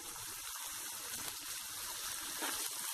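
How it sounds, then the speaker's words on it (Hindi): Water poured into a pan of vegetable upma made with semolina (rava) and peas, a steady broadband gush of liquid running continuously for a few seconds, close and fairly loud with no talking. "पानी ऐड करूंगी।"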